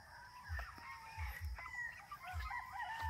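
Gamefowl chickens and roosters in an outdoor ranging area cluck and crow repeatedly at moderate distance, with low thumps from movement and no speech.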